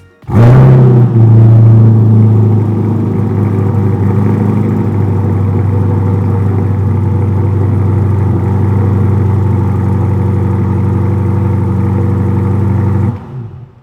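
A loud 2023 Chevrolet Corvette C8 Stingray Z51 engine starts and revs through its sports exhaust, then holds a deep, throaty rumble for several seconds before cutting off abruptly.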